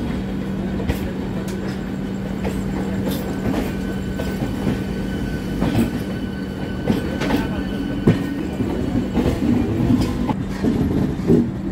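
A passenger train runs on its rails on an overnight journey toward Gaya, a loud continuous rumble inside a carriage with a steady low hum, and irregular clanks and clicks from the wheels, with no clear talk.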